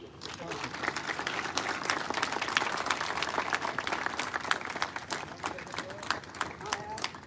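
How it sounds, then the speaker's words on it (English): Audience applause at an HR conclave held at a college in Dehradun, with distinct individual claps standing out over a rhythmic, uneven clapping texture and faint voices murmuring underneath. "I request everyone to please keep applauding."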